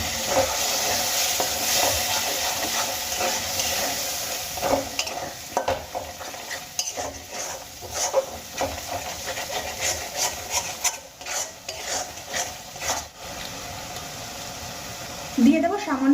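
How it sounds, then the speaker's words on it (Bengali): A spoon stirs ground spices and a little water in a hot frying pan for a Bengali pea, potato and paneer curry, making repeated scraping strokes over a soft sizzle, with louder clatter near the end. "এবার সমস্ত গুঁড়ো মশলাগুলো আমি মিশিয়ে নেব। গুঁড়ো মশলাগুলো মেশানোর সময় আমি এর মধ্যে দিয়ে দেব সামান্য জল।"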